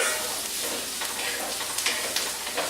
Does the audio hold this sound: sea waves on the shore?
no